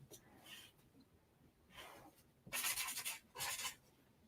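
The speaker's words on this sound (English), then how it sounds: "I'm gonna write on your cards." Pen writing by hand on small order cards, soft scratchy strokes in short bursts, close and quiet, with two louder scribbling passes near the end.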